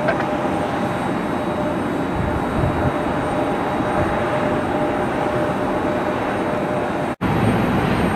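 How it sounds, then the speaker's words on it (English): A Southwest airliner taxis quickly at Cleveland Hopkins Airport on a busy Thanksgiving weekend, its jet engines producing a steady, broad roar that holds constant apart from a momentary dropout near the end; no voices. "Behind them, taxiing quickly as always, is Southwest."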